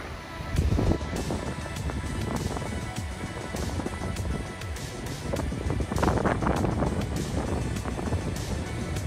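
Wind blowing on the beach at Bigbury Bay, Devon, gusting steadily against the microphone with a broad rumbling roar and surf-like wash, loud and continuous throughout.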